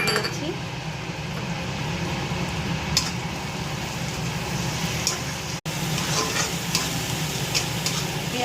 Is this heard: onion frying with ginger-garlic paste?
yes